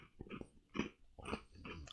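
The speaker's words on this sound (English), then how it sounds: "And, yeah, very big crunch." Close, loud crunching of a salty soy-sauce-flavored Japanese snack, several sharp bites and chews in quick succession with no talking.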